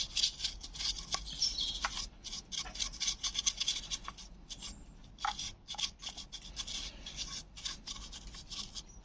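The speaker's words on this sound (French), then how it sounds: "On profiter pour nettoyer le ventilateur." A dusty ventilation fan inside a converted camper van is cleaned, giving close, steady brushing and rubbing scrapes with short bursts and pauses, and no speech.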